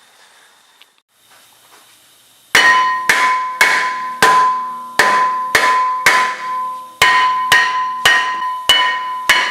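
A hammer strikes the brake rotor of a Nissan 350Z about a dozen times in a steady rhythm. The blows are loud, close, sharp metallic clangs with a ringing tone, after a quiet start with a single short spoken word.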